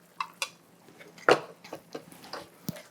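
A utensil stirs chicken, green beans and mushrooms in a skillet. The sound is a sparse series of close clinks and scrapes against the pan with one louder clatter partway through, and no one speaks.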